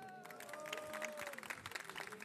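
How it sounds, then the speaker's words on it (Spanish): Conference audience applauding during a talk about contributing to KDE, a steady patter of clapping across the room with a sustained tone and some voices mixed in. "Aplausos."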